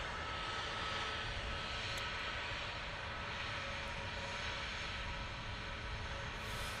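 A Turkish passenger jet departs for Istanbul with a steady, broad engine roar that holds loud and unbroken throughout, without voices.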